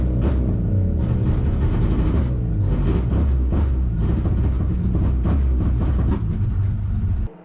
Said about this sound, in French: Le moteur il a redémarré mais il tourne pas bien.